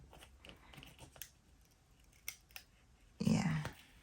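Scissors snip through sticky diamond painting canvas at close range, a string of light cuts followed by one louder, longer slice near the end.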